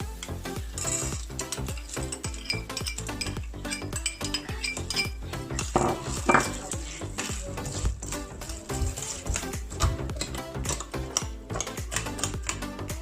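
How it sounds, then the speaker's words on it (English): Popcorn kernels poured into a pot of melted butter: a dense, continuous clatter of small hard grains hitting metal, loud and close, with no talking. "Here I have melted butter. Then I'm going to be adding the corn."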